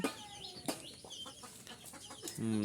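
Native (desi) chickens on a poultry farm cluck and squawk intermittently nearby, some calls sharp and sudden, with a louder sustained tone rising at the very end.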